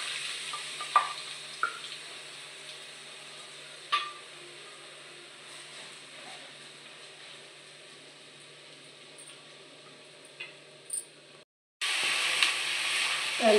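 Onion frying for chhole in a pan with bay leaf and spices, a steady close sizzle with occasional spoon scrapes and taps, cut by a brief pause before the frying resumes louder.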